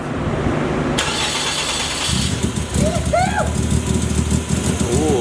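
A project car's engine cranks and fires, settling into a rough, loud idle close by, with people talking over it.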